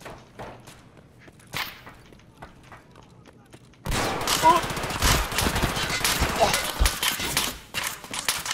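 Gunfire in the video game Escape from Tarkov, a few isolated sharp shots at first, then a loud sustained burst of rapid automatic fire and crackling rounds, with players talking over it.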